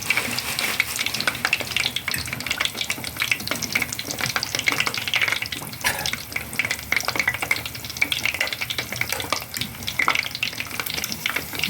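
Potato pieces fry in hot oil, a dense, continuous crackling sizzle that stays loud and close throughout, with no talking.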